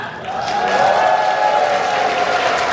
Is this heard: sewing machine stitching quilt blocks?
no